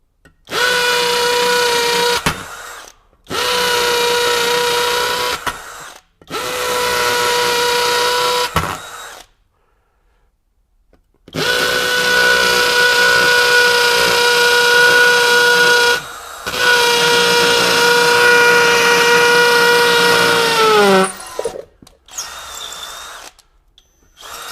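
A Kobalt KHD124 24V brushless hammer drill in hammer mode at speed 2, boring with a 3/8 inch masonry bit, whines loudly in five close, sustained bursts separated by short pauses, with a steady high tonal pitch and gritty hammering buzz.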